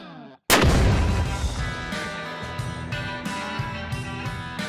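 A .300 Win Mag rifle fired from a lead sled blows apart a Lufkin Shot Force tape measure: one loud, close blast with a long rumbling echo and a few fainter knocks trailing after.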